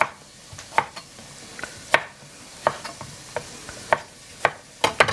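Shrimp stirred and turned in a hot pan for a shrimp and egg rice bowl, a quiet sizzle under irregular scraping and tapping of a utensil against the pan, close up with no talking.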